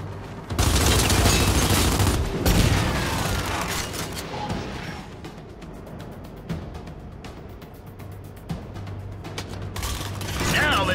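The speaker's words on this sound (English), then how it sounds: "let's try using blind fire to destroy them while keeping yourself protected and covered" Blind fire from cover in the Gears 5 video game, loud sustained automatic gunfire with dense overlapping bursts and mechanical clatter, a voice speaking briefly between volleys.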